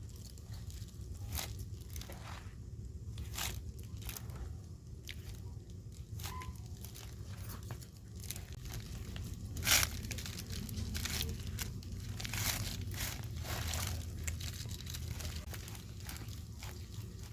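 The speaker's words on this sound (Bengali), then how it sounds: "এইভাবে আমি ভালো করে ফেটে নেব, দেখুন।" Palm cake batter of flour, baking soda and salt is beaten in a bowl, making faint, irregular wet slaps and clicks that repeat over a low background murmur.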